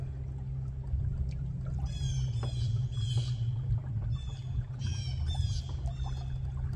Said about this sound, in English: trolling motor works pretty well when there's no wind